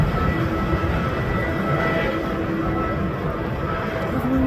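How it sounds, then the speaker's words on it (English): A CN freight train, the B788 with locomotives running two-by-two, rumbles past at Ladysmith, Wisconsin in February, a loud, steady, continuous roar of engines and rolling wagons with no talk. "Locomotives running 2x2."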